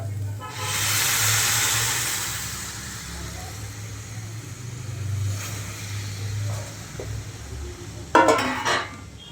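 Milk poured into a pan of ghee-fried carrots with bay leaf, cashews and raisins for gajar payesh, giving a loud sizzling hiss that settles into a steady simmer, with a few clattering stirs at the end.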